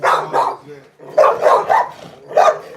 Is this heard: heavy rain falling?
no